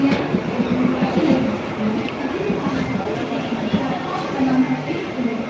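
Mumbai local train at Kurla railway station, a steady close rumble of carriages with rhythmic clatter filling the whole stretch, with voices talking over the noise of the platform.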